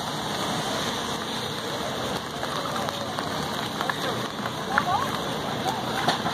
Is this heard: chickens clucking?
no